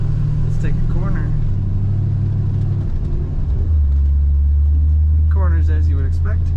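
A 1963 Chevrolet Bel Air driving and taking a corner, a steady low engine rumble that shifts pitch midway, with bits of speech over it.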